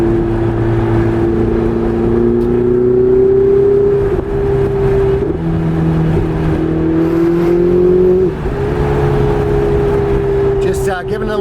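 A Ferrari 488 Spider sports car engine hums steadily under light throttle on a bumpy road through an underpass, pitch rising and dipping with brief shifts, loud and close.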